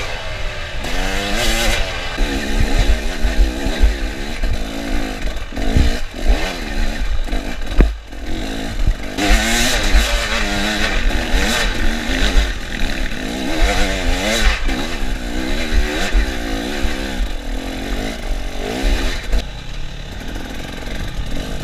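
Dirt bike engine labouring up a steep logging road during an enduro race, loud and close, revving hard in uneven bursts with rising and falling pitch, bogging and clattering for over twenty seconds.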